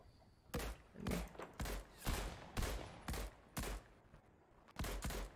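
Repeated gunshots in a Fortnite match, with a sniper firing: about eight sharp, evenly spaced cracks, each followed by a short decay, loud and fairly close over a quiet background.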